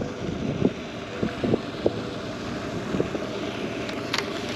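Wind gusting outdoors beside a pond, a steady broad rush with buffeting against the microphone and a few faint knocks, moderately loud throughout with no talking.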